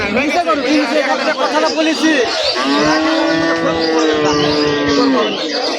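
At a cattle market in Rajshahi, a cow gives a long, loud, close moo over a hubbub of people talking and bargaining.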